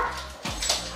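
A pet dog indoors in a condo gives a short high whimper and a yip, close and moderately loud, in a brief burst.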